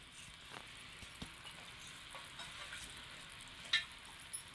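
Modak filling with crushed cardamom and chopped almonds cooks in a pan, giving a faint, steady low sizzle with a few soft scrapes of stirring, quiet and close.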